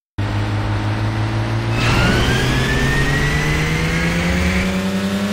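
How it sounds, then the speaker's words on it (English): Car engines rev loudly and continuously in a mobile drift racing game featuring a Grancabrio, a steady drone rising in pitch as one car accelerates through the stretch, with no talking. "Gentlemen, start your engines."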